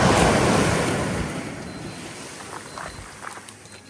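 Sea waves wash onto the shore on an evening seaside walk, a loud, broad surging wash that slowly recedes and fades, with wind buffeting the microphone and no talking.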